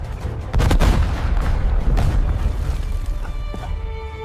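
A cartoon grenade explosion and gunfire in an animated Hulk battle scene: a loud blast erupts, followed by a rapid string of sharp bangs and booms that gradually thin out.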